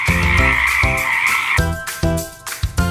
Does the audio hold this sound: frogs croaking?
yes